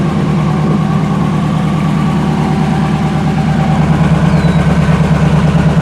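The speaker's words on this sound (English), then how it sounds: "Car is warming up" Pontiac Firebird engine idling as it warms up, a loud, steady low rumble with a faint lumpy pulse, close by and without speech.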